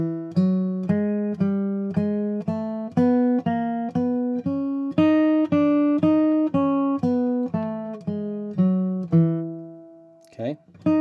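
A single instrument plays a repeated melodic figure that adds a chromatic lower neighbor note on the seventh, clean, evenly spaced notes rising gradually, ending with a brief scuffle of noise.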